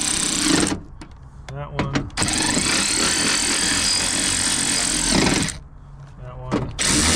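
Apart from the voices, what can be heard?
power tool tightening a part on a Honda CR-V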